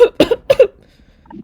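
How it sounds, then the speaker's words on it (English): Several short, dry coughs from one person come in a quick cluster near the start, then a brief quiet throat sound follows. "I got a little cough right now myself."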